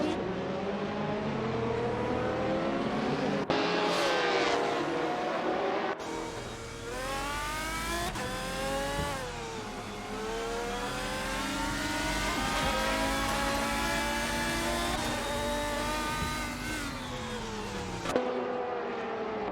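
GTR race cars at Road Atlanta in a racing video game roar continuously with rising and falling engine revs, gear shifts and cars passing close, loud and sustained with brief cuts between scenes.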